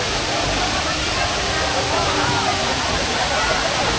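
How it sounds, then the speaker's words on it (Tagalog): Waterfall splashing into a crowded pool at Bato Springs Resort, a steady broadband rush of falling water that stays loud and unbroken, with a busy babble of many people around it. "Dito yung may waterfalls"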